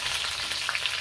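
Pork ribs frying in hot oil for Bolivian carnival puchero, a loud, continuous sizzle with crackling pops and spatters throughout the short stretch, close up and with no talk.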